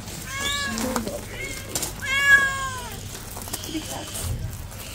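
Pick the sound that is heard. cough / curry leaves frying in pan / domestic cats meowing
domestic cats meowing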